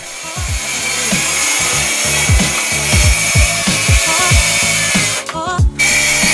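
A power saw cuts wood pieces for a rolling table saw and jointer workbench, running loud and steady with a repeated rhythmic pulsing, then a brief dropout near the end before it resumes.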